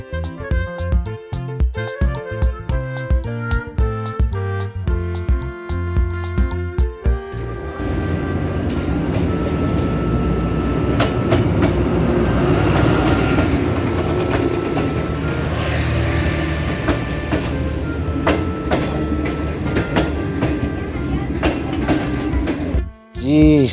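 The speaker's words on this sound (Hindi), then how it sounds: "जी तो ट्रेन पहुंच चुकी है अल्हम्दुलिल्लाह" A passenger train pulls into Gujranwala railway station, its loud rumble and clattering wheels filling the platform after a choppy opening, with brief squeals and a sudden cutoff at the end.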